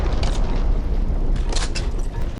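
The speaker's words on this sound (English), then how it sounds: "just a 40mm breech-loaded grenade launcher" A 40mm breech-loaded grenade launcher, the Deep Core 40 PGL, fires in the Deep Rock Galactic video game, giving a loud, dense booming blast with rumbling that fills the scene before cutting off abruptly.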